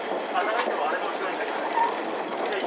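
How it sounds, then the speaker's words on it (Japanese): The JR Kyushu Futatsuboshi 4047 tourist train pulls out of a station, heard from onboard as a steady low rumble of wheels on rail with a faint sustained whine and light clatter. "この列車は廃棄駅を出発していきます"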